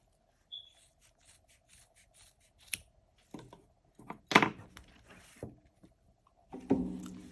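Scissors snip through a wrapped bundle of yarn to cut scarf fringe, giving a few short, close crunching cuts with quiet handling rustles between them.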